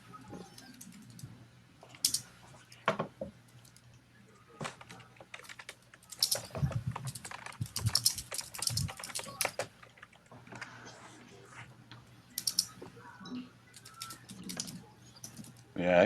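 Computer keyboard typing in short irregular bursts of clicks, fairly close, over a steady low background hum with occasional louder taps, during an online group game session.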